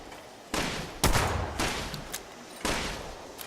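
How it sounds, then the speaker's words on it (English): Gunfire from other players in the video game Fallout 76, several heavy shots and short volleys that crack in one after another, each followed by a long rumbling echo. "There's someone else shooting over there."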